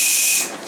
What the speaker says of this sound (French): Il y a plus de vapeur par la vanne que par le sifflet.